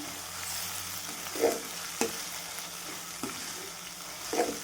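Ginger, garlic and green chili paste fries in hot oil with a soft, continuous sizzle, broken by a few sharp spoon scrapes and taps as it is stirred in the pan, close and fairly quiet.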